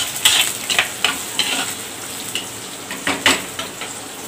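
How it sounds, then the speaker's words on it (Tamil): Small onions and garlic sautéing in oil for brinjal tamarind curry, a bright steady sizzle with repeated spoon strokes scraping the pan, close and fairly loud, no talk. "சின்ன வெங்காயம் நல்லா வதக்கின்னே இருக்கு, நல்லா வந்து செவக்க வதக்கிக்கிங்க"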